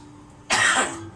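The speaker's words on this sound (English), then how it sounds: "Sorry about a little bit of coughing there." A single sharp cough from a person cooking rib eye steak in a kitchen, one loud close burst rising over a quiet background and fading within half a second.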